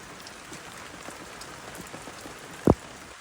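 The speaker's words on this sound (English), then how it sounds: "We need the rain." Steady rain falls on a rainy Sunday outdoors among daisies and green grass, a continuous soft patter of drops with one sharper close knock near the end.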